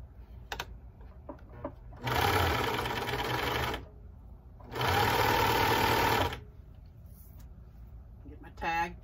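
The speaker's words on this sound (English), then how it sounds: "the serger." A serger overlocker stitches a travel pillow case in two loud, steady bursts of about two seconds each, separated by a pause, with faint handling sounds around them.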